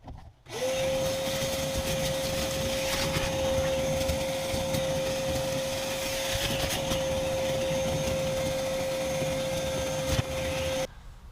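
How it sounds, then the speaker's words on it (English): A vacuum cleaner sucks built-up leaves out of the evaporator coil housing of an Audi 5000 CS Quattro, a steady loud whine starting abruptly and holding unbroken for about ten seconds with faint rubbing and scraping underneath. "I've got that all vacuumed out and the evaporator coil looks much better"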